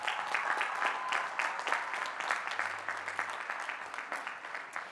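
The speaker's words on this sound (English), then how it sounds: "Seniors, please give all of your teachers a round of applause." An audience at a high school graduation ceremony applauds the teachers, steady clapping from a large crowd at moderate distance that continues without break and fades slightly toward the end.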